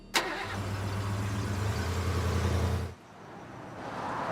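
A car engine cranks and starts with a sharp burst, then runs loudly for a couple of seconds before cutting away to quieter background noise.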